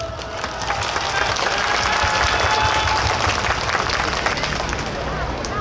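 A large festival crowd applauds a Japanese Hokkaido yosakoi soran dance team on an outdoor main stage in Taichung, with dense, steady clapping and loud crowd babble throughout.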